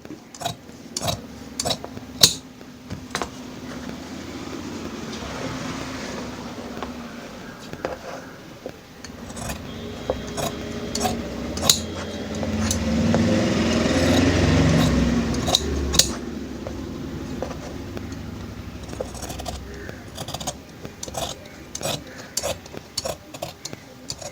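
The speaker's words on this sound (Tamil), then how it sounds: "இப்போ நம்ம ஸ்லீவை கட் பண்ணி எடுத்துக்கலாம்" Scissors cut a blouse sleeve from fabric on a table in crisp, irregular snips, with soft cloth rustling and handling sounds between the cuts.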